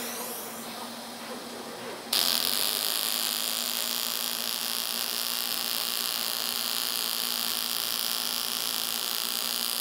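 A Panasonic TAWERS robotic welder works on a 0.6 mm thin aluminum plate, using spiral weaving. It starts abruptly after about two seconds and gives a steady, loud, high-pitched buzzing hiss with a low electrical hum underneath.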